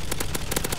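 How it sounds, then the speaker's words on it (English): Rapid bursts of MG4 machine gun fire in Modern Warfare 2's AI zombies mode on the Underpass map, a fast steady rattle of close, loud shots filling the short stretch without pause. "Ooh, MG4. This gun's good."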